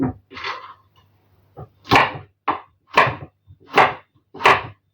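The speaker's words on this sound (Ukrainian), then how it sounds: "Я наріжу дрібненько соломкою" A knife cuts carrot into thin strips on a cutting board, a series of sharp, evenly spaced strokes, close and crisp with brief pauses between them.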